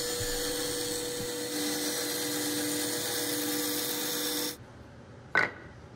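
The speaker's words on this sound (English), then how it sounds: "I'm just cutting this out on the bandsaw since it's purely a lot of curves" A bandsaw cuts curved cherry wood clock parts with a steady, bright whine and hum for several seconds. The blade then cuts out abruptly, leaving a quiet tail broken by one short sharp click.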